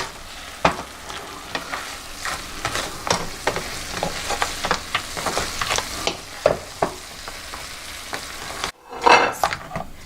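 Crab is stir-fried in tamarind sauce in a hot pan: a steady sizzle with frequent sharp scraping clicks of a utensil tossing the pieces, close and fairly loud, ending in a brief louder clatter.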